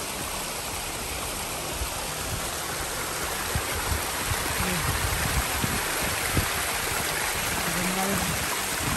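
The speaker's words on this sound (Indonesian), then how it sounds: "sekarang ada air mengalir sih" Water flows steadily along a mountain trail stream, a constant close rushing wash with small splashes, while a person talks intermittently over it.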